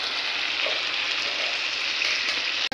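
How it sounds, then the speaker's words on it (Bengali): Tangra fish frying in hot oil in a pan: a steady, close hiss and crackle that holds evenly, then stops abruptly at the very end. "এই যে দেখো এদিকে মাছ ভাজা হচ্ছে।"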